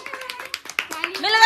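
Hands clapping at home in quick, light, uneven bursts, mixed with talk from a child and adults close by.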